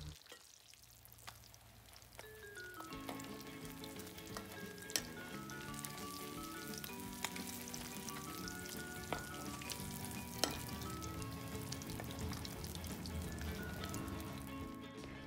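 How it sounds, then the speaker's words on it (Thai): Sun-dried snakeskin gourami fish frying in hot oil in a pan, a dense continuous sizzle and crackle with scattered sharp pops, steady and close throughout. "ทอดออกมาสวยงามความเหลืองความกรอบก็ขึ้นอยู่กับเราเลยค่ะถ้าใครชอบกรอบมากก็ทอดนานหน่อยค่ะ"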